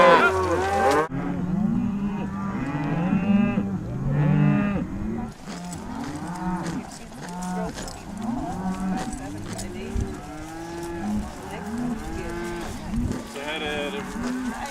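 A herd of cattle moos repeatedly, many overlapping low bellows near and far, with faint voices now and then.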